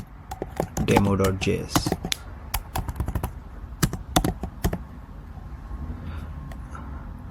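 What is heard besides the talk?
typing a command on a computer keyboard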